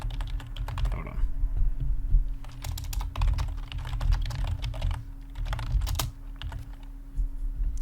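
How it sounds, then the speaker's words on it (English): Rapid, loud clacking of keys on a computer keyboard, steady and busy throughout, with a low hum underneath. "Loud typing."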